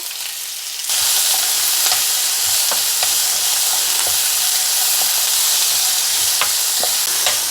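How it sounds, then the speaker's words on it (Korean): Chopped vegetables stir-fried in a single pan for a light diet meal give a loud, steady hiss that starts abruptly after a brief quiet moment. Faint clicks of stirring sound through it, with no talk. "여기에다가 요 잘게 썰어놨던 야채들을 예, 넣고 볶아주세요"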